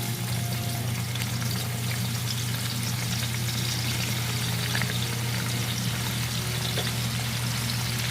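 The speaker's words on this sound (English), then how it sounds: "we have our oil is hot. I'm gonna put in some onions." Onions frying in hot oil in a pot for Nigerian tomato stew, a steady close sizzle and crackle with a low hum underneath, continuous and even throughout with no talking.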